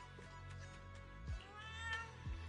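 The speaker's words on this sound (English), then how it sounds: "a chubby orange cat waddles out from the corner of the room. It looks over, meows triumphantly" A chubby orange cat from the video game Zenless Zone Zero meows, a few soft, close cries spread across a quiet indoor room with faint low rumbles beneath.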